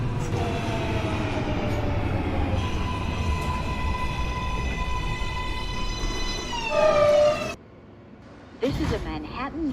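An NYC Subway R143 J local train in the OpenBVE simulator rumbles along with a loud steady roar and rising whining motor tones, then cuts off abruptly into near silence before a short chime and renewed sound; a recorded voice announces during it.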